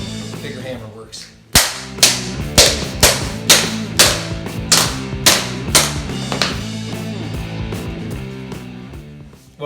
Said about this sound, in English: Bigger hammer works.